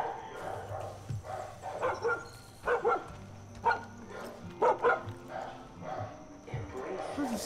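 A dog barks loudly in the video game Far Cry 5, with repeated sharp barks and yips scattered irregularly over several seconds while players talk throughout.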